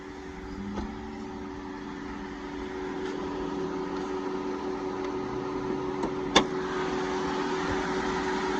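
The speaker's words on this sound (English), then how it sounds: "clean, quiet sounding engine. No abnormal noises." A 2019 Nissan Rogue's 2.5-liter inline four-cylinder idles steadily and quietly with the hood up, a smooth even hum with no knocks, one brief click near the end.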